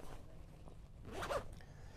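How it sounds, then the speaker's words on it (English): A zip on the sealed storage area of a trailer tent being pulled, a quiet fabric zipping rasp that swells near the middle and fades, with no one talking. "You have two zips and a completely sealed storage area."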